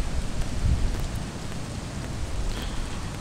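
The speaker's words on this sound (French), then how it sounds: "Il pleut un petit peu ce matin." Light morning rain falls by a lagoon on a narrow strip of land, a steady soft patter and wash with no voices.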